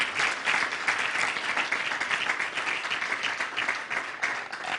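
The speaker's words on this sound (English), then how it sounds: "please put your hands together again to welcome Dr. Shola" An audience at a leadership and entrepreneurship event claps to welcome a speaker, with continuous, full applause that stays loud and even throughout.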